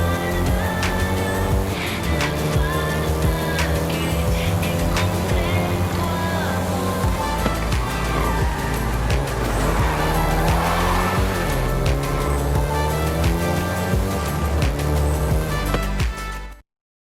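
Volkswagen Golf GTI hot hatch in Forza Horizon 5, its engine droning steadily and loud through a long continuous drive, revs wavering slightly before cutting off abruptly at the end.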